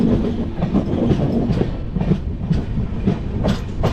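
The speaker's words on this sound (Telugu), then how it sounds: "ఫైనల్లీ మన ట్రైన్ అయితే కదూర్ జంక్షన్కి రీచ్ అయిపోయింది." A passenger train runs near Kadur Junction, heard close and loud as a continuous rumbling roll with a repeated clickety-clack of wheels over rail joints.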